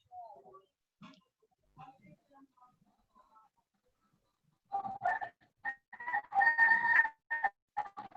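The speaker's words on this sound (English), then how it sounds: "Parang naririnig ko yung chicken" Chicken clucking and crowing in short bursts, fairly close and loud in the second half, after a quiet opening with faint scattered voices.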